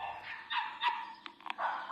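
Dogs bark faintly and repeatedly in the distance. The short yaps break through a thin background hiss.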